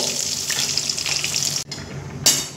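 Pieces of pointed gourd (potol) frying in hot oil in a pan give a steady, loud, close sizzle that drops out for a moment and then flares up again.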